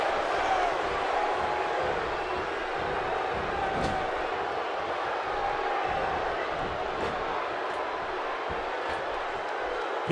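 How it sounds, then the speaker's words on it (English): Simulated arena crowd noise in WWE 2K17 during a wrestling match, a continuous distant roar of cheering that stays steady throughout, with occasional sharp impacts breaking through. "by the sound of this crowd, I think they're getting what they wanted"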